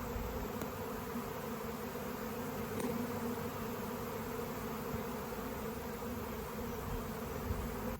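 A swarm of honeybees in flight outdoors, a faint steady humming drone hanging in the air at a distance, continuous and even, without voices.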